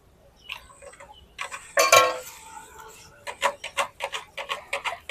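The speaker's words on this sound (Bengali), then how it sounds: "অল্প অল্প দুধ দিয়ে এভাবে আগে মিশিয়ে নিতে হবে তাড়াতাড়ি মিশে যাবে" A spoon knocks and scrapes against a bowl as milk is mixed into a mango yogurt mixture for mango doi, giving a run of quick, rhythmic, close-up taps.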